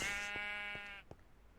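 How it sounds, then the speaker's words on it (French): A sheep in a video game gives a single drawn-out, nasal bleat, fairly faint and alone, fading out after about a second. "Là, j'entends plein de moutons"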